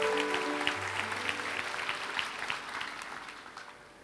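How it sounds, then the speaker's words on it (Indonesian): A church congregation claps during a sermon, a fairly faint, steady patter of many hands with a few sustained keyboard tones at the start and fading at the end. "Kasih tepuk tangan untuk Tuhan"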